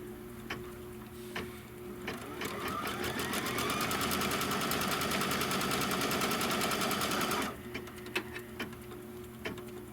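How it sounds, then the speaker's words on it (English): An embroidery machine stitches a trim line, its rapid rhythmic needle chatter running steady and close for several seconds before stopping, framed by quieter ticks and clicks. "it's going to stitch the trim line down the left side"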